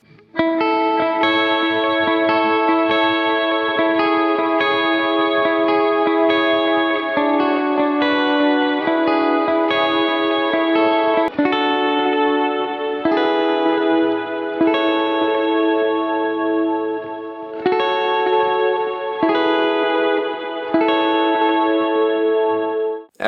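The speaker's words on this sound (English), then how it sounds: "I get subtle compression from the Kemper all the time, so I use the Deep 6 for a more aggressive compression" Electric guitar played through a Kemper amp with a Deep 6 pedal adding aggressive compression, sustained even chords and melodic lines with chorus and echo shimmer, steady and loud for over twenty seconds without speech.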